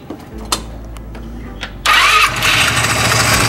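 Italika W-150 motorcycle engine, newly fitted with a replacement stator, starting: a few clicks and cranking noises, then the small engine catches and settles into a steady, close, loud idle with a faint mechanical noise.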